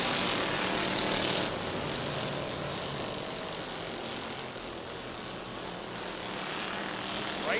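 Crown Victoria race cars roar around Jennerstown Speedway in a feature race, a continuous engine drone heard from a distance, swelling slightly as the field passes.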